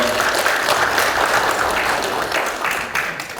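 Audience applause at a forum lecture in Chuncheon, a dense, steady wash of many hands clapping together that holds throughout and starts to fade slightly toward the end, with no speech over it.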